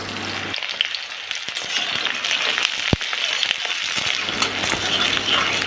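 Onions fry in oil in a pan with a steady, continuous sizzle close by, broken by a few brief clinks and one sharp knock of a utensil partway through, with no talk.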